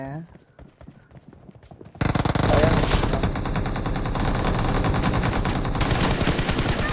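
A machine gun fires rapid sustained bursts during a team deathmatch video game. After a quieter opening with a voice, loud dense automatic fire starts abruptly and keeps rattling for several seconds while people talk over it.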